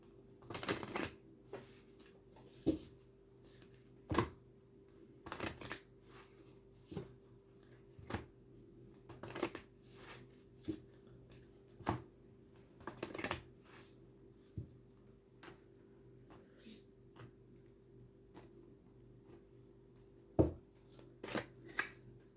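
Tarot cards are handled and shuffled close by in short, crisp bursts of riffling and tapping, spaced irregularly over a quiet background with no talk.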